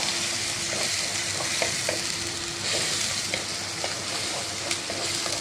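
Green chillies and curry leaves sauté in a hot pan and are stirred, giving a steady close sizzle with soft scraping spoon strokes throughout and no voices.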